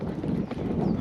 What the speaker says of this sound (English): I really like to be able to just leave the barn at a trot